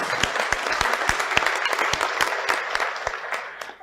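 A crowd at an annual co-op meeting in Scott City, Kansas gives a round of applause for volunteers: steady, moderately loud clapping with a few sharp, close claps standing out, tapering off at the end.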